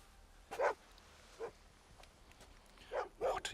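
A dog barks in a film scene set during a Special Forces test, with four short barks spaced unevenly over a few seconds against quiet background hiss.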